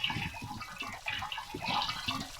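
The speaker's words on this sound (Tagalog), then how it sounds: "naliligo po tayo ngayon" Water runs and splashes during a bath, a soft, continuous trickling with small gurgles and uneven spatters, heard close and fairly quiet.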